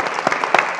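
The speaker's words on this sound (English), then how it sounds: "can we give our guests one more round of applause" Audience applause for guests at a panel event on the substance use crisis, a short burst of dense clapping from a crowd at moderate level, with a few sharper individual claps standing out.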